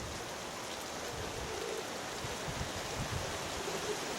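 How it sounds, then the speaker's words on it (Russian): Heavy pouring rain in strong wind, a steady hiss of downpour drumming on surfaces, fairly quiet and unbroken, with no voices. "потому что дождь идет проливной."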